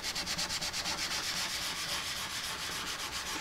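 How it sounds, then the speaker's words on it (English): Sandpaper rubs back and forth over the wooden body of a Martin 00 style acoustic guitar in a fast, even rhythm of short strokes, close and quiet with no voices. "I'm going to flip to fresh sandpaper and really zero in on that line area"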